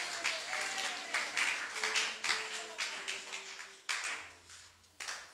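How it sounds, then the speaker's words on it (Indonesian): A church congregation claps for the children at a worship service, bursts of crowd applause rising and falling in waves, with faint tonal sounds and a brief voice-like hum beneath. "Beri tepuk tangan untuk anak-anak kita."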